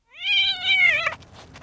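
A single clear, close cat meow, drawn out and rising then falling, lasting about a second before trailing off into quiet.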